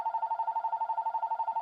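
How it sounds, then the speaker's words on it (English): A home landline telephone rings in a steady electronic warble, close and clear, filling the short moment on its own with no voices. "Phones ring when you're trying to record a video lecture."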